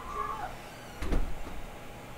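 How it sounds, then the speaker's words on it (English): An indoor door is shut, a single short thump roughly halfway through against quiet room background. "And they just shut the door"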